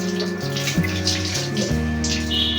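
Water is splashed over a dog's belly during a wash, a continuous close running and splashing of water with a faint steady tone underneath, no talk.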